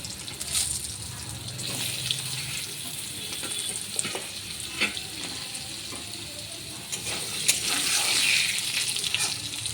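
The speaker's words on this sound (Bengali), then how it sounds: "আলুগুলো এখন আমি ভালো করে ভেজে নেব" Diced potatoes with bay leaf and cumin frying in oil, a steady close sizzle with clicks and stirring scrapes that grows slightly louder toward the end.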